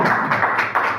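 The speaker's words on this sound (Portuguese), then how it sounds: "Bate palmas para Jesus." A church congregation claps together in a brisk, even rhythm of a few beats, close and fairly loud, with no talking.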